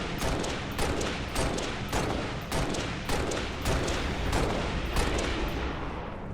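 Rapid bursts of automatic gunfire crackle nearly nonstop in a Halo: Reach firefight on Xbox 360, loud and dense with repeated volleys and no talking.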